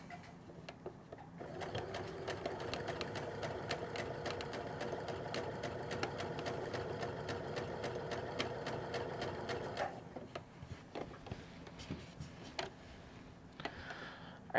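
A sewing machine stitches a French seam on a skirt, running in a steady rapid mechanical rattle for about ten seconds before stopping, followed by a few faint clicks and handling noises.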